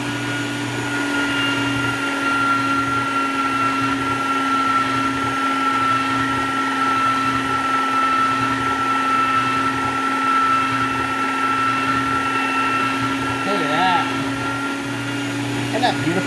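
Pasta dough fed through a pasta rolling machine, a steady motorized whir with a constant hum running unbroken and loud at close range.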